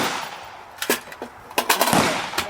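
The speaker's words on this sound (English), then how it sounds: "That's good shooting, Lou." Gunshots at an outdoor shooting range crack out one after another: a single report, then a cluster of sharp shots, and a final lone shot, each loud against a faint background.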